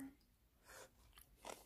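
Crisp, crunchy chewing of seasoned deodeok root salad, several close, quiet bites with no talk.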